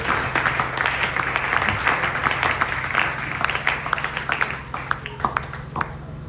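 A church congregation applauds for the Lord, steady dense clapping with scattered sharper claps and crowd noise, gradually thinning toward the end.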